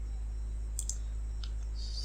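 Computer mouse clicks while working in QGIS software, a few faint sharp clicks, a close double click and then a single one, over a low steady electrical hum, with no talking.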